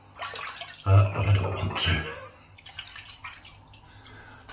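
Running tap water during a wet shave with a slant safety razor, a hiss and splash that swells loudly for about a second and then fades into softer trickling, with someone speaking briefly.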